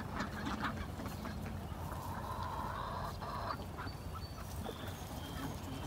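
Ducks mixed in with chickens quack and call faintly against a steady, broadband outdoor background noise, with no clear separate calls standing out.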